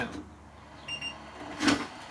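A short electronic beep pattern from a Makita 40V dual rapid battery charger as a battery is put on, a few high tones near the middle, with handling noise and a brief clunk around it.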